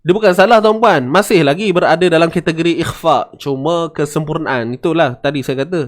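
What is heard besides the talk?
No everyday noises stand out.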